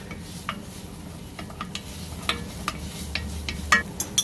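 A spoon stirring salt and pepper through keto broccoli cheddar soup in a pot, heard as soft scraping with scattered light clicks and taps against the pan over a low, steady background.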